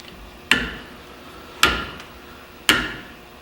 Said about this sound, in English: Tapping on the housing when you first assemble it can help seat this.